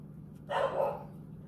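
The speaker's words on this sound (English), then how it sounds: "Excuse the loud dog in the background." A single short dog bark, fairly loud and nearby, over a low steady hum.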